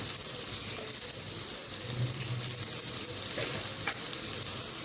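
Egg bhurji with tomato fries gently over low gas: a soft, steady sizzle with occasional spatula scrapes and stirs.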